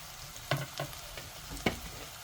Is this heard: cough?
no